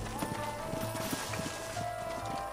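Clip-clop of horses' hooves from the western video game Red Dead Redemption, a steady rhythmic trotting of several horses close by, accompanied by background music and a brief voice.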